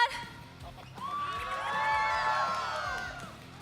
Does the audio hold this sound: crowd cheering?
yes